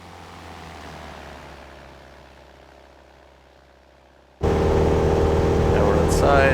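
A Cessna 172 SP Skyhawk in Aerofly FS 4 makes a low, fading propeller drone for several seconds. It then cuts abruptly to a loud, steady engine roar near the pattern at Lausanne Blécherette airport.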